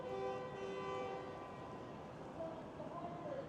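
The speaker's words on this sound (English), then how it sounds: "Not sure what all the honking is actually for." Car horns sound in long, steady blasts on a downtown Toronto street at night on Christmas, moderately distant and blending into a constant traffic hum.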